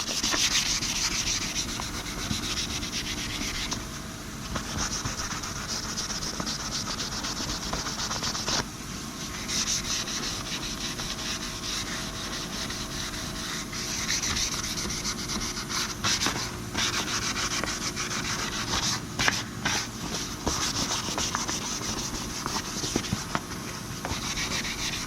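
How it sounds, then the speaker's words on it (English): Steady hand sanding with 500 grit softback sanding sponges during paint prep, a continuous close scratchy rubbing with slight strokes and shifts in texture throughout, no talking. "500 grit softback sanding sponges."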